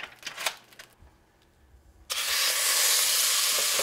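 Butter hitting a hot pan where rabbit is cooking: a couple of soft knocks and a quiet gap, then a sudden loud, dense sizzle that holds steady and close to the end.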